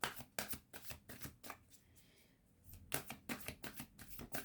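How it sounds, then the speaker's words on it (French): Tarot cards are shuffled in quick riffling bursts, pause briefly, then resume with more rapid flicks and taps as cards are drawn, close and fairly soft. "Je vais tirer quand même une autre carte."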